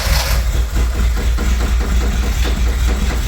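A Toyota Tercel wagon with a swapped 4A 1.6L engine runs rough nearby, a steady, loud, uneven low rumble with a faint pulsing, lumpy beat throughout.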